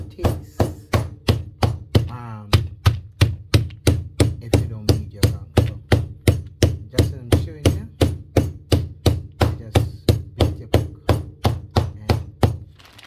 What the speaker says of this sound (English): just continue, beat your conch, right?